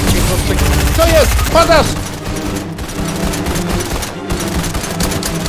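Fortnite gunfire crackles in rapid, dense bursts, loud and close, while players shout over it, and the shots continue more thinly under the talking.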